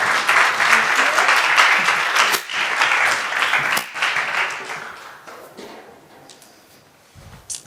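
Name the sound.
applause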